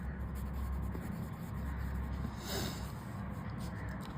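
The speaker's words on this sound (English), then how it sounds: "So we write it over here." A pen writes on paper close by with soft scratchy strokes and short rubbing bursts, faint and irregular against quiet room noise.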